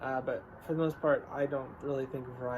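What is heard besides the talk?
No everyday noises stand out.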